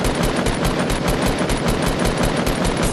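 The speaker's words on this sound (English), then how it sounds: "Shooting at the zombies or husks as this game prefers." Continuous rapid automatic gunfire from a Fortnite shooter firing at zombie husks, loud and steady with an even machine-gun rhythm filling the whole stretch.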